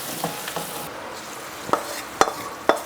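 Cashews in a pongal tempering are stirred in a pan after the heat is turned off, a soft steady sizzle with a few sharp utensil scrapes and taps near the end.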